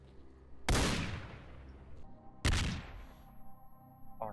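Two sharp, loud gunshots crack out in the Call of Chernobyl game, each one trailing off in a ringing echo, about two seconds apart, followed by quieter in-game rustles and clatter.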